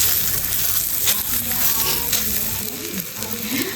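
Krabby Patty patties grilling in butter in a pan give a steady close sizzle and crackle, with faint clinks and scraping over the frying.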